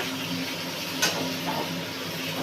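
Something fries with mustard paste in a pan, a steady, close sizzle and hiss with one brief clink of a utensil, no voices.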